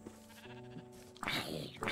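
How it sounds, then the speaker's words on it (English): Sheep bleating in the video game Minecraft, a short wavering cry rising loud near the end of the moment after a stretch of quieter in-game ambience. "That's a sheep."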